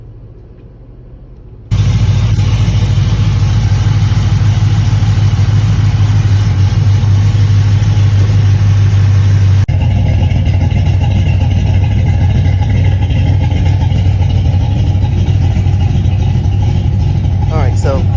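A 383 stroker V8 in a Pontiac Grand Prix starts up and runs, a loud steady idle rumble that shifts in tone partway through and continues evenly to the end.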